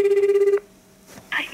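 A telephone ringback tone on an outgoing call to a Japanese food company office, one clear repeating ring burst, then a brief pause before a voice answers at the end.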